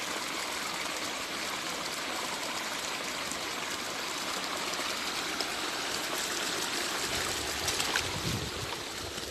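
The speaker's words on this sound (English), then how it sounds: "Something quite hypnotic about the sound of water running over stones." Water runs over stones in a small stream, a soft, even babbling and trickling that holds steady throughout, heard close and alone without any voices.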